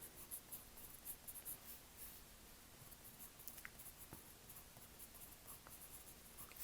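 A pen writes on paper up close, its soft scratching strokes quiet and intermittent, with small pauses and light taps between marks.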